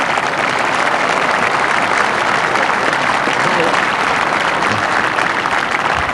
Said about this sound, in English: Warm applause from a very good crowd here at the Woodland